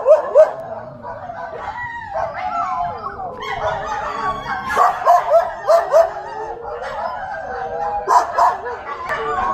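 Stray temple dogs at Khao Kradong Volcano Forest Park in Buriram, Thailand, barking and howling together at middle distance, a continuous overlapping chorus with louder yelps rising now and then.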